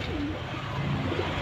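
A domestic pigeon in a loft coos, giving a low, throaty coo repeated twice over a steady background hum, close by.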